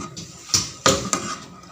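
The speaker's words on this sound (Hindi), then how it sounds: "अब इसको मिक्स करेंगे।" Rice flour, milk and water are stirred together in a cooking pot for Hyderabadi kheer, with a few distinct metallic clinks and scrapes of a utensil against the pot, close and fairly loud.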